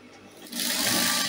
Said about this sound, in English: I'll stitch it to the back neckline.